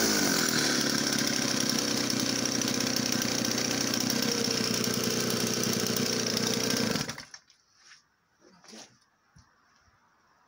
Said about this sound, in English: Just a gorgeous running engine.